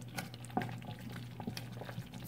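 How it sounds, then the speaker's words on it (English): Peanut butter sauce simmering in a pot on reduced heat, a low quiet bubbling with soft irregular pops and small stirring taps throughout. "our peanut butter sauce is still cooking"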